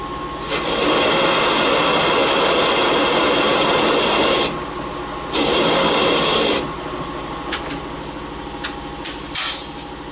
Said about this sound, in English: what we're going to do is just machine down to the tip of the old guide.